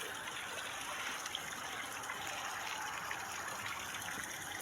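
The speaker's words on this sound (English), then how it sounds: "Little water hole trickling in." Water trickles into a small hole in a mostly dry creek bed in Illinois on a spring day. It makes a steady, soft, broadband rush and gurgle that stays even and continuous, fairly quiet, with no voices.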